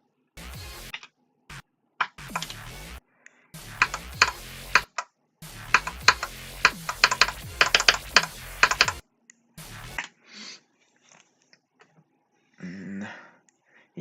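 Rapid mouse clicking with an alternating technique during gaming: fast, sharp click bursts come in separated clusters with short silences between them, close and crisp, followed by a few quieter isolated sounds near the end, with no speech.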